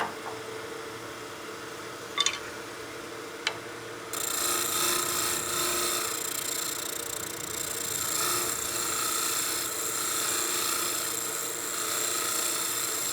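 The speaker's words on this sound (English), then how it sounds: "so we'll use the spindle roughing gouge" Spindle roughing gouge cutting a wood block spinning on a lathe, starting with a few faint taps and then a steady rasping, scraping drone that is continuous and moderately loud.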